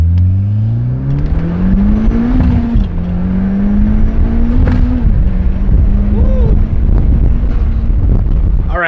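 A tuned 340 WHP Mitsubishi Evo X engine revs hard and loud on a dyno, its pitch climbing steadily then holding high, with wind-like roar throughout.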